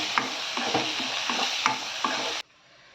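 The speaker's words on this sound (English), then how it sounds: "Nicely saute it." Masala being sautéed in a pan for a raw banana fish curry, with a loud, steady sizzle and repeated rhythmic stirring scrapes that stop abruptly near the end.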